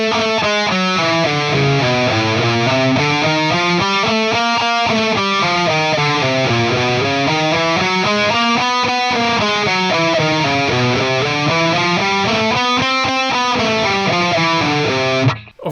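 An electric guitar with heavy distortion runs scales up and down the neck in a steady, continuous line, loud and close for the whole stretch, with no talking.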